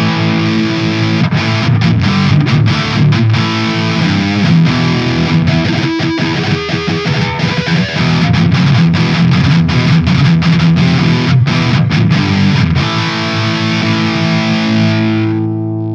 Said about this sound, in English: round on the highest gain distortion with the drive right up